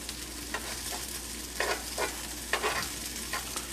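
Wild mushrooms fry in a pan, giving a steady close sizzle with several brief scraping bursts as the pan is moved around.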